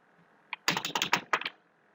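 A quick burst of typing on a computer keyboard: about a dozen crisp, close key clicks packed into under a second, with quiet before and after.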